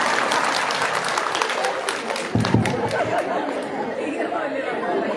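An audience at a temple Bhagavatha Saptaha Yajnam gathering breaks into sustained applause, a dense wash of clapping mixed with crowd chatter, continuing steadily throughout.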